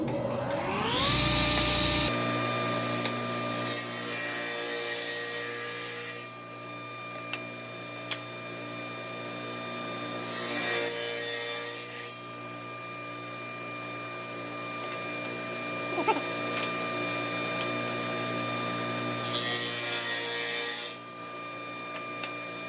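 A V groove cut in wood for a charcuterie board with butterfly keys, a loud steady power-tool whine with bursts of heavier grinding as the cutter bites, alone with no voices.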